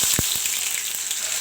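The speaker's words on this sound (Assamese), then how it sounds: "আৰু ইয়া তেল গৰম হৈ গ'ল মই দি দিছো পিয়াজ" Onion drops into hot oil in a kadai heated with about one and a half spoons of oil, giving a loud, continuous close sizzle with a few sharp crackles at the start.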